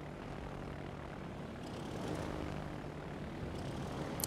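Warplanes from the naval combat game World of Warships drone overhead as a steady propeller-engine hum that swells slightly midway, close and continuous with no speech.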